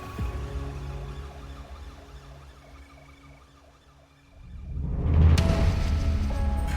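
A wailing ambulance siren rises and falls in the background, then a loud rumbling vehicle surges closer toward the end.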